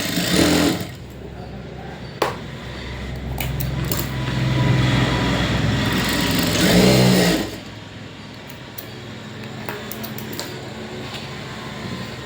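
A sewing machine runs a double stitch along a blouse lining in sustained whirring bursts, with sharp clicks between runs and a brief pause before the motor starts again, close and fairly loud.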